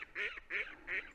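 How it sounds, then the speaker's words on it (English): Ducks at Ladybower Reservoir beside the Derwent Dam give three loud, evenly spaced honking quacks, fairly close and over a faint outdoor background. "Ducks are getting very vocal."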